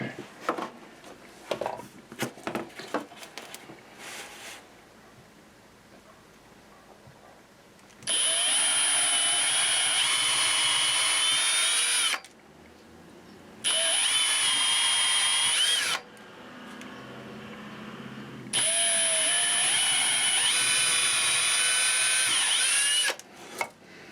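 A power drill driving screws into a wooden chair leg whirs in three long, loud bursts separated by pauses, preceded by some clattering and handling sounds.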